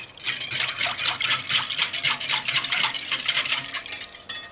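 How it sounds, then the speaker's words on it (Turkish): A metal spoon stirs a light dessert mixture with food colouring in a bowl, giving a steady run of close, rhythmic scraping and clinking strokes with no talk. "Şöyle kaşığın ucuyla biraz gıda boyasına koyuyorum ve tekrar karıştırıyorum."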